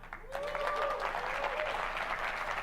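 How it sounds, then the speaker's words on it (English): Audience applause fills a keynote hall at a tech launch event, a dense steady wash of many hands clapping alongside some cheering, sustained throughout at moderate loudness. "Clap, clap, clap, clap, clap."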